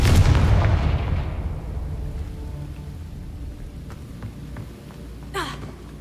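Confringo fire spell in the video game Hogwarts Legacy, a loud booming blast that rumbles and decays over several seconds, followed by a faint sparkling sweep.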